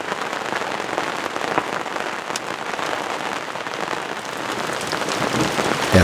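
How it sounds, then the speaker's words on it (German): Steady rain pattering on surfaces around an old boat at its mooring, a dense even hiss of drops throughout that swells slightly louder toward the end. "Erst begann es zu regnen,"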